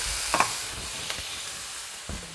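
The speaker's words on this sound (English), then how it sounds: "I'm gonna wash my hands and stir these veggies" Vegetables stirred in a hot pan, a faint background sizzle with a few brief utensil scrapes and taps, close and quiet.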